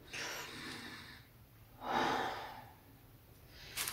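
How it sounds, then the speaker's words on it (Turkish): A man breathing in and out from the diaphragm during a cupping (hacamat) training session: two close, slow, airy breaths, each a soft rush of air, with a quieter pause between them. "bir nefes alıp verin bakayım"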